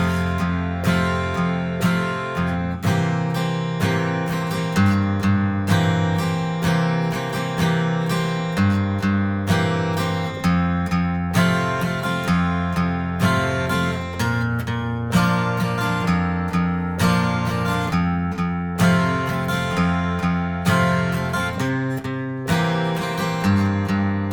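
Guitar strums the verse chords of a song at a slow tempo around 74 BPM, a steady rhythmic pattern of full ringing chords with regular accents, close and loud, continuing without any voice for over twenty seconds.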